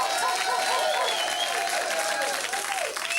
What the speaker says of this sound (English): So please, would you give him a nice round of applause?